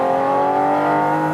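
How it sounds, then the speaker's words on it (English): A 2022 Porsche 718 Cayman GT4 RS pulls hard on a racetrack, its naturally aspirated engine wailing loud and steady with a smooth, rising, harmonic-rich drone from near by, no talk over it. "this naturally aspirated engine has such a linear power curve"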